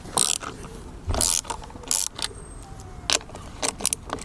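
A 13mm spanner loosens the front wheel nuts on a Lambretta scooter, giving a run of metallic ratcheting clicks and clanks in short bursts, close and fairly loud, with no talking.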